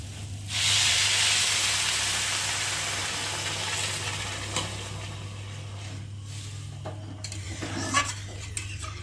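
Water poured into a hot pan of fried spiced dalia (broken wheat) for khichdi bursts into a loud hissing sizzle that slowly fades, with occasional spoon scrapes and stirring clinks and a steady low hum underneath.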